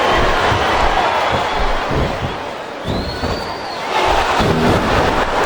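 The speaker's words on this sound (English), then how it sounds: "I think this crowd's giving these superstars a piece of their minds, King." Dense, continuous arena crowd roar from a wrestling video game (WWE SmackDown vs. Raw 2007) with cheering swells and thuds, loud and steady throughout, with a brief rising whistle-like tone in the middle.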